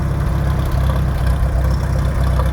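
An old Farmall M tractor engine runs at a steady, low, throbbing idle close by, with no voices.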